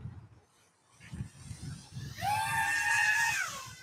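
After a low fluttering hum, a small Baby Croc5 FPV drone's motors suddenly punch out to full throttle, a loud, high-pitched whine that climbs and holds briefly.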